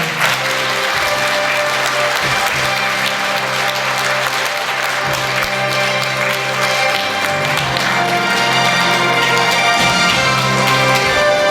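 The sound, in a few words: audience applause at award ceremony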